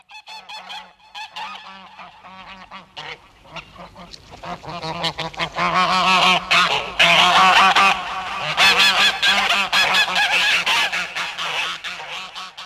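A flock of geese honking loudly and close, starting with a few scattered calls and building into a dense, overlapping chorus of nasal honks that continues to the end.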